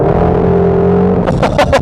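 A tuned 2018 Ford Mustang GT350 pulls hard in second gear, its engine note rising steadily and close, then breaking into rapid bursts as the revs climb.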